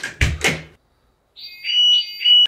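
A prank alarm rigged as a nuclear siren goes off indoors with a loud wailing, warbling electronic tone that rises and steps between pitches, following a few seconds of talk and a short pause.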